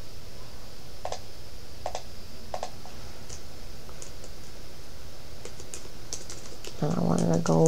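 Keys tap on a computer keyboard in a few soft, scattered clicks under a faint room hum, and a voice begins speaking at the very end.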